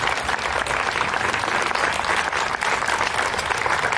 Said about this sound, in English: Can we just give them a round of applause for their dedication to Encircle?